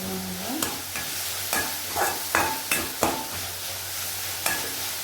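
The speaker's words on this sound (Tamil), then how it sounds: "நல்லா வதக்கணும்" Chopped banana flower for chutney is sautéed in a pan, a spatula scraping and stirring in sharp, irregular strokes over a low, continuous sizzle, close and clear without talk.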